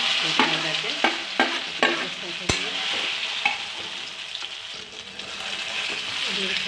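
Cauliflower frying in hot refined oil makes a steady hissing sizzle, punctuated by several sharp spatula taps against the pan early on before the frying settles into an even crackle.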